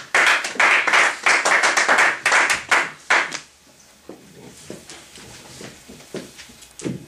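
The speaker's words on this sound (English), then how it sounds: "please, good round of applause, Beatrice Yuli." An audience claps for about three seconds, the applause fading quickly; afterward a few light taps and small sounds remain in a quieter room.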